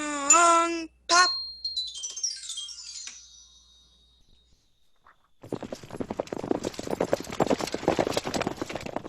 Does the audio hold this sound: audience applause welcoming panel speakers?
no